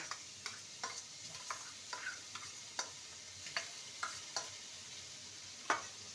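Ginger paste fries with turmeric and a splash of water in a pan, a soft steady sizzle punctuated by regular spoon scrapes roughly every half second, close and quiet with no talking.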